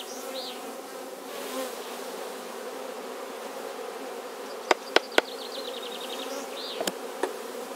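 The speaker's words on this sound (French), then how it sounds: "Pour éviter le pillage, je secoue les abeilles." Steady honeybee buzzing as bees are shaken off hive frames, close and continuous, with a few sharp knocks and taps near the end and a faint bird chirp.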